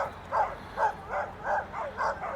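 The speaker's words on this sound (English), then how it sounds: "They are some mad dogs right there." Angry dogs bark near an old chicken farm by the St. Regis River in Haugan, about six sharp barks in a steady rhythm at moderate distance, with no talking.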